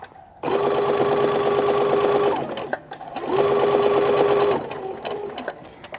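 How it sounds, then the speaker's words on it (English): A sewing machine stitches a small fabric strip onto a garment for a welt pocket, running in two bursts of about two seconds each with a short pause between them, close and clear. "I'm just stitching on this little strip of fabric where we initially made the welt"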